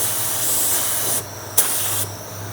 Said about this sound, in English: We're just going to use really low air pressure and just put a couple coats on this.